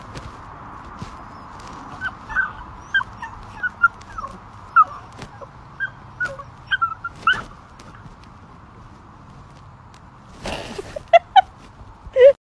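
A puppy whimpering in a series of short, high, thin cries and yips scattered over a quiet indoor background, with a brief louder rustle near the end.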